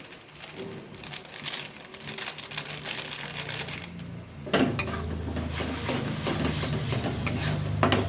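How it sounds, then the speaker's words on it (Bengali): Spice masala with shahi garam masala is stirred and sautéed in a pan, giving a continuous crackling sizzle. Scraping and clattering from the utensil get louder and busier in the second half. "ভালোভাবে আমি এটা কষিয়ে নিলাম"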